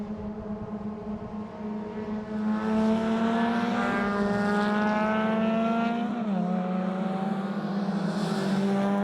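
Suzuki Swift race cars run on a circuit, engines droning steadily in a strong, near tone that climbs as they accelerate, dips briefly around a turn, then builds again.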